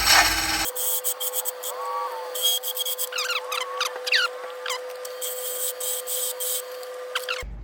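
A carbide lathe tool cuts spinning wood for a baby rattle, with bursts of short scraping and rasping strokes over a steady motor hum, close and moderately loud.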